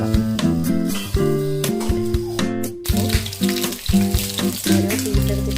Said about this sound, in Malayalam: ഞങ്ങൾ മീൻ പൊരിക്കാൻ പോക്കാണ്. ഇലയൊക്കെ വെച്ചിട്ടാണ് പൊരിക്കുന്നത്.